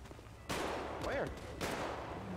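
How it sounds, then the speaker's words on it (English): Gunfire rings out in a GTA 5 roleplay game session, a few loud sharp shots in quick succession with a short burst near the start, while voices talk over the game audio. "Who's shooting?"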